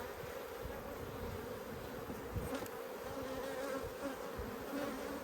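Honey bees buzzing around a four-week-old nuc hive beside a second hive in an Australian apiary, a dense continuous drone of many insects close by, with no talk.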